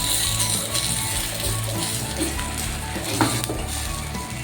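Jowar flour amboli cooking on a pan, a steady close sizzle and frying hiss running throughout with a faint clink partway through.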